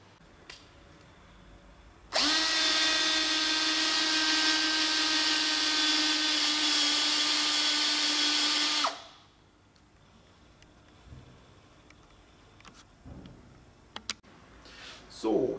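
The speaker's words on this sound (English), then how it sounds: "We take one drill electrode and the socket wrench and drill into the bale from the front." A drill with a moisture meter electrode bores into a hard pressed fibre bale, a loud steady high whine running for several seconds before cutting off, followed by quieter handling clicks and rustles.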